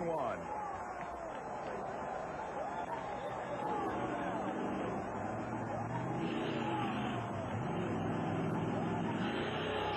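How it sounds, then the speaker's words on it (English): The Valvoline Chevrolet monster truck engine roars as it powers over crushed cars at a 1991 USHRA arena show in Anaheim. The engine growl is distant and steady under a busy commentator's voice and crowd hubbub. "Big power stand as he applies power in the middle of the crushed cars"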